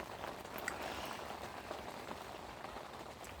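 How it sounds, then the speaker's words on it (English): Steady rain pattering on the surface around a fishing lake, a soft even hiss with occasional distinct drops, fairly faint and continuous throughout. "Rain through the night, not much I don't think, but now it's come in"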